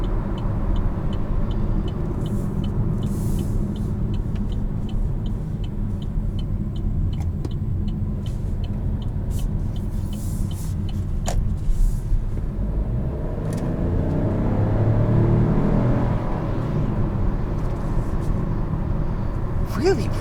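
A 2021 Chevrolet Trailblazer RS heard from inside the cabin while driving, giving a steady low road and engine drone with a faint ticking that swells slightly midway, and a voice talks over it at times.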